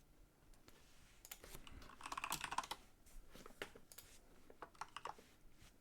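Fast, uneven keyboard typing with clustered clicks and short pauses, fairly close and moderately quiet, with no voices.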